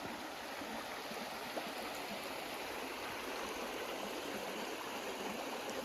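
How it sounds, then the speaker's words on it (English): A creek at a Wyoming campsite flows steadily beside the listener, a constant rushing babble with no breaks and no voices. "There's a creek."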